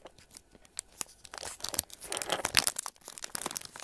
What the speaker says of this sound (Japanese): まずは、古典メダルから開封していきたいと思います。